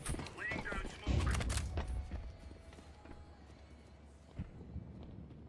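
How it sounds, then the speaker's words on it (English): Footsteps sound in a Counter-Strike match: a run of quick, soft in-game steps, with a louder burst of game noise near the start and the action continuing underneath. "I hear footsteps"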